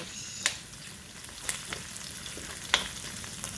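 Garlic fries in a pan for a mixed vegetable dish with coconut milk, a continuous close sizzle marked by a few sharp pops and crackles.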